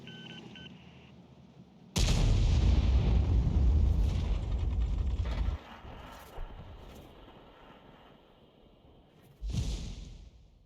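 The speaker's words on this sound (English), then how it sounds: "he's gone back into cover because shells are hitting the ground" Artillery shells from an enemy Conqueror artillery gun slam into the ground in World of Tanks, two loud booming impacts with rumbling debris, one long blast early and a shorter one near the end.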